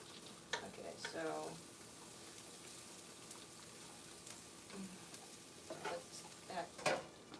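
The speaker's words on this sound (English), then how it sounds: "saute for like a minute to get the onions soft" Onions sautéing in a pan for a keto breakfast: a faint, soft, steady sizzle with occasional utensil scrapes and clinks.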